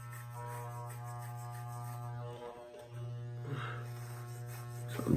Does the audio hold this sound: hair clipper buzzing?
yes